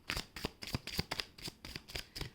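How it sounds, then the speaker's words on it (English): Tarot cards are being shuffled by hand in a steady series of crisp riffling and slapping strokes, each lasting about a quarter second. The shuffling is close and continuous with no talking. "I'm just kind of shuffling a bit and see what else comes forth"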